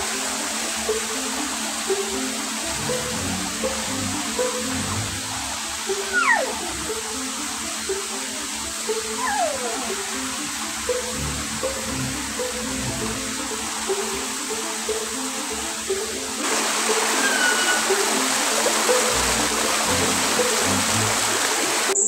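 A waterfall in a Kalimantan forest roars as a steady, dense rush of falling water, close and constant throughout, with no voices heard.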